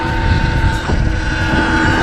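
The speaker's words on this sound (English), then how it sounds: "I'm sure you guys probably can't even hear me because of the wind" Steady roaring wind buffeting the microphone while riding an electric Surron dirt bike fitted with an Electro & Company EMXRON kit, loud and continuous for the whole stretch with no talk.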